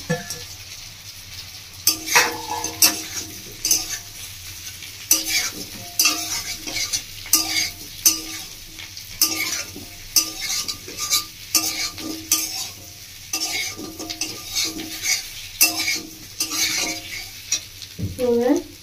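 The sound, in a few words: stir-frying paneer and cauliflower with onion and chili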